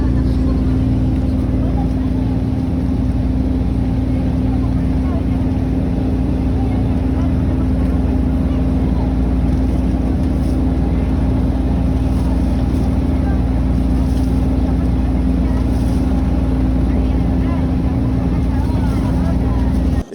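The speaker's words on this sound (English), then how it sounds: "jump back on a boat and head back to the terminal" A boat engine drones steadily and loudly from close by on a river delta, a constant low hum with water rushing beneath, unchanging for the whole stretch.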